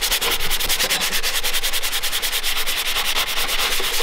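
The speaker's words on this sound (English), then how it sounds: "Just descale it a little to get the rust off" A sanding block rasps rust off a metal hand plane in fast, steady back-and-forth strokes, loud and close, with a rhythmic scratching that carries on without pause.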